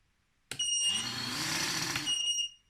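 A single sustained electronic beep from an Eachine Novice-III drone remote control, with a sharp onset, holds steady for about two seconds, then cuts off cleanly.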